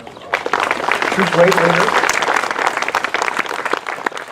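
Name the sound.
audience applause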